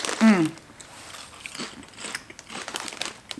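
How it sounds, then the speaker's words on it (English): Crunchy prawn cocktail crisps bitten and chewed close up, one sharp crunching bite followed by scattered crackly chewing, with a person talking over it. "They're like super crunchy."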